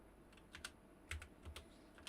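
Quiet keystrokes on a computer keyboard, a few scattered taps in an irregular rhythm with short pauses, close and soft against a low room hum.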